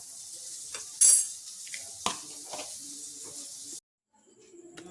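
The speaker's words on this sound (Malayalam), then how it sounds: "അപ്പോൾ നമ്മൾ ഈ കരിഞ്ജീരകം ഒന്ന് അടുപ്പത്ത് വെച്ചൊന്ന് റെഡിയാക്കി കൊടുക്കുക" Ground black cumin (kalonji) roasting in an iron pan gives a hissing sizzle with a few spoon scrapes and clinks, which cuts off abruptly into near silence.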